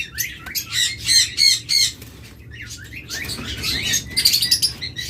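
A crowd of pet birds, including lovebirds, budgerigars, cockatiels, conures and diamond doves, squawks and chatters loudly and close by in dense overlapping bursts, with short pauses and a little wing flutter.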